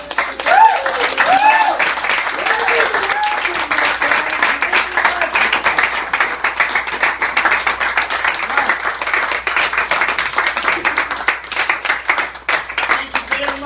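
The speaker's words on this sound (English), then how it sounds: "Everybody, one big round of applause." A large audience applauds at a fan Q&A with actor Robert Z'Dar, a dense, steady wash of many clapping hands lasting throughout, loud and close, with scattered whoops and voices mixed in.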